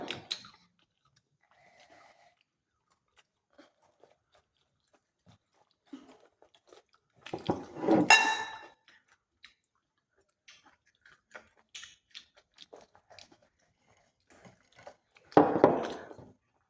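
Spicy fried potatoes being chewed during an eating challenge: two loud, close bursts of crunchy biting and munching, separated by long near-silent stretches with only faint scattered clicks.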